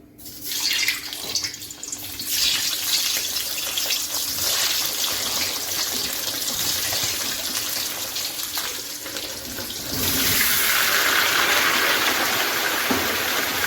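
Potatoes frying in hot oil in a pan for a vegetarian aloo dum, a steady loud hiss and sizzle that swells further toward the end, with no talk.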